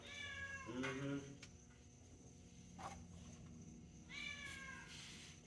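A cat meows twice, close by and fairly quiet, with a pause between the calls and soft background noise in the quiet stretch between them.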